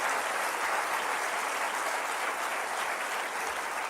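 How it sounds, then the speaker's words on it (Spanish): A church congregation bursts into applause during a sermon, a dense, even wash of many hands clapping that holds steady without a break. "Dele otro aplauso a Él."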